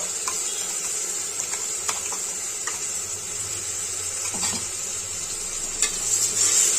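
Ground masala sizzles with fenugreek leaves in an oily pan for a Kannada menthya bath, a steady hiss broken by occasional spoon scrapes and stirring clatters.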